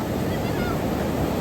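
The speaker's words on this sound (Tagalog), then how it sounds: "ang lakas ng alon" A loud, steady roar of strong ocean surf and wind at Baler fills the air, continuous and close, with no clear voices.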